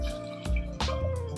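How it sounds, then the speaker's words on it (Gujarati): Water pours into a cooking pot already holding a cinnamon piece, two cloves and turmeric, a close, steady running and splashing fill for dal bati cooked in a pressure cooker, with a brief louder gush midway. "અને પછી એમાં પાણી નાખી દઈશું આપણે"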